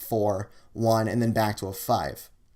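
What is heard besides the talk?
None of the usual background noises is heard.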